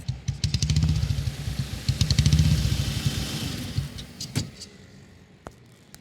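A car engine revs and idles in pulsing bursts as the vehicle pulls over to the roadside, then settles down. A few sharp clicks and knocks follow, with quieter rumble trailing off.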